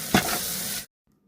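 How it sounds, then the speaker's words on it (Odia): Onions sautéing in a pan for biryani give a close, steady sizzle with one sharper burst near the start, then it cuts off abruptly into near silence. "ଏବେ ଆମର ପିଆଜ କଷା ଚାଲିଛି"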